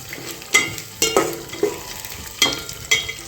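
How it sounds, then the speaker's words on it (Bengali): Lentils dry-roasting in a pan for khichuri, stirred in about six rhythmic scraping strokes with a soft rustle of grains between them, close and fairly loud. "ডালটা বেজে নিচ্ছি"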